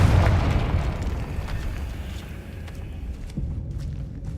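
Hogwarts Legacy's Confringo spell explodes with a heavy, deep blast right away, followed by a long rumbling tail and faint debris clatter, loud and close, no speech.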